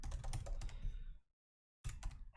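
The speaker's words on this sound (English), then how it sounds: "I hate typing." Fast typing on a computer keyboard clatters up close, stops for about half a second of silence, then resumes.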